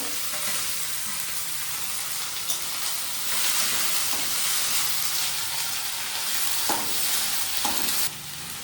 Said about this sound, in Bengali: এই যে পেঁয়াজটা ভাজা ভাজা করতেছে, পেঁয়াজ আর আলু দিয়ে ভাজা ভাজা যখন হয়ে যাবে